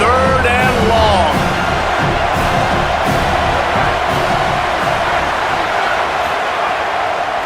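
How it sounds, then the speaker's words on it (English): A home crowd roars continuously at a video game football game, a loud dense wall of cheering and yelling with whoops on top, steady for several seconds. A commentator's voice briefly rises over it at the start. "Man, this crowd really affecting the football game."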